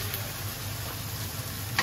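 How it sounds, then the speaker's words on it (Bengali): Ginger, garlic and chili fry in a pan with a steady, gentle sizzle that holds through the short stretch, close and fairly quiet, with a single faint tick near the end. "আদা রসুন আর মরিচটা ভালোভাবে একটু ভেজে নেব, একটু ভাজা ভাজা হয়ে গেছে"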